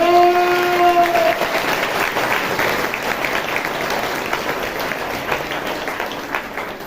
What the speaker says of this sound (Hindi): ताली बजा के प्रभु का धन्यवाद करो